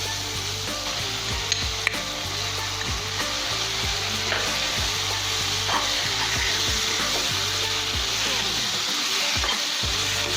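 Squid masala for kanava thokku frying in a pan, a loud continuous sizzle broken by regular scraping stirs of a spoon, close up with no voices.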